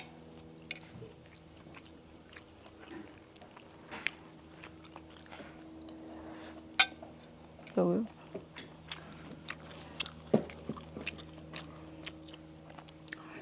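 Quiet, close chewing and occasional crunchy bites of stir-fried bitter melon with eggs, coming in sparse irregular bursts over a faint steady hum.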